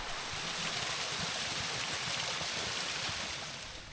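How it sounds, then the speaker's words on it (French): A river flowing beside a shaded rest area near the Ballon de Servance, a steady soft rushing of water that fades slightly at the end, no voices. "au bord de la rivière"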